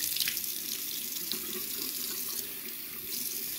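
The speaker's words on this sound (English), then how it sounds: "So I'm going to rinse this real quick." Tap water runs steadily into a sink as a facial tool is rinsed, a close, continuous splashing hiss with slight shifts in the flow.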